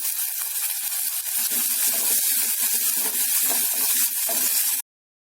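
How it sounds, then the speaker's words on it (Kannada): Onions and curry leaves frying in hot oil give a steady, close, dense sizzle with crackling pops throughout, cutting off abruptly near the end; no talking. "ಫ್ರೈ ಮಾಡ್ಕೊಳ್ತೀನಿ, ಚೆನ್ನಾಗಿರುತ್ತೆ"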